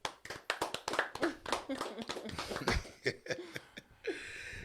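A few people clap for a guest on a podcast, a sparse run of sharp, close hand claps mixed with chuckles, laughter and breathing.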